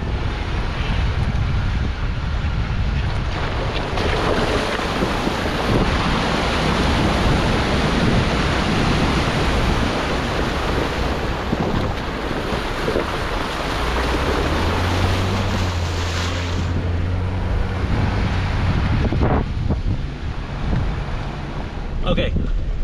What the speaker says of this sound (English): Okay, we just forded the Colorado River.